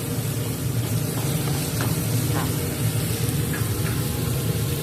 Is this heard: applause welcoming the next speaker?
no